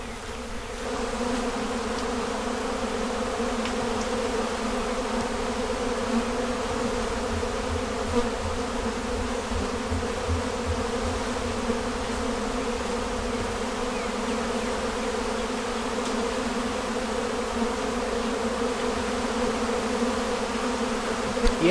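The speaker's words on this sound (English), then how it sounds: "Ooh, look at the bees." Honey bees swarm around wet honey supers during a honey harvest, a dense continuous buzzing drone that holds steady and loud throughout with no talking.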